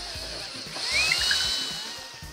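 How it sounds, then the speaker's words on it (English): A power drill bores ventilation holes along one side of a solar food dehydrator frame, giving a short high whine that swells and fades over about two seconds. "I'm drilling a few ventilation holes along one side of the frame"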